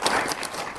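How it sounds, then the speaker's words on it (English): A lecture-hall audience breaks into applause, a dense, steady wash of clapping that holds for under a second. "Everybody, round of applause."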